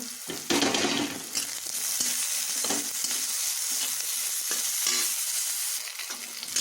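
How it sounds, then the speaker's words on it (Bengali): Eggplant pieces seasoned with salt and turmeric fry in hot oil with green chillies, a steady crackling sizzle with irregular stirring scrapes and clatters throughout. "একটু ভেজে নেব।"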